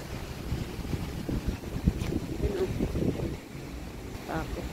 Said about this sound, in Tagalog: grabe talaga yung hangin.